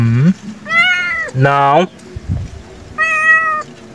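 A cat meows repeatedly indoors, several drawn-out, rising calls close by, interleaved with a person talking.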